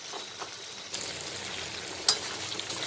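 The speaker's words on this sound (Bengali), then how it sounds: "ভাজা ভাজা করবো এর সাথে।" Pre-fried soybean chunks sizzle with spices in a pan as they are stirred, a moderate, even crackle with a few sharper pops and spatula scrapes.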